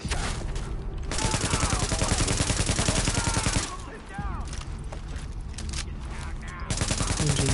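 Sustained automatic gunfire rattles in Tom Clancy's The Division, long rapid volleys that briefly drop out and resume, with voices speaking over the shooting.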